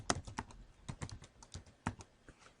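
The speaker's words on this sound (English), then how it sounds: "I'll type in Greg Botello" Someone types an author's name on a computer keyboard, producing a quick, irregular run of close, crisp key clicks over a quiet background with no talking.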